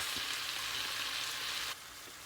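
Onions and tomatoes sauté in a pan for chana masala with a steady, close sizzle that drops suddenly to a quieter hiss near the end.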